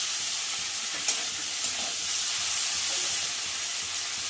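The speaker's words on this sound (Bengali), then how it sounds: "হালকা করে ভাজবো, চিংড়ি মাছ বেশি কড়া করলে পরে শক্ত হয়ে যায়, আর একটু হালকা করে ভাজলে পরে মাছটা নরম" Shrimp fries lightly in a pan with a steady bright sizzle, a few soft spatters and small clicks rising over the constant hiss, with no voices.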